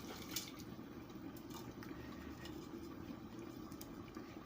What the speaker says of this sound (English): See, I'm pouring all of the stock.